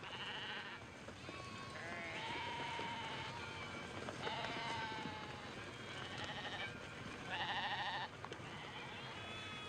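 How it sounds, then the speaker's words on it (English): Sheep bleat repeatedly in a noisy pen on the way to a slaughterhouse, with several overlapping wavering cries rising above a dense, rough background of shuffling animals. "the silly sheep go in to get their throats cut"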